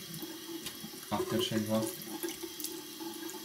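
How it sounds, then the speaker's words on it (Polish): A bathroom sink tap runs while a face is rinsed with lukewarm water. The water gushes and splashes close by in uneven surges, and someone speaks briefly over it. "letnią wodą zmywam zawsze"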